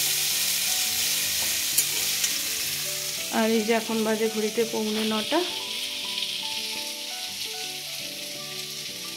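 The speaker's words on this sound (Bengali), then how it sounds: "আর এখানে করছি একটু ফুলকপি ভাজা।" Cauliflower fries in a pan in a home kitchen, with a continuous close sizzle running under a voice that talks briefly partway through.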